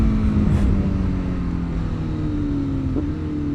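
A tuned motorcycle engine revving high toward 15,500 RPM, a loud sustained whine with steady harmonics that dips and shifts pitch near the end, close and continuous with no talk.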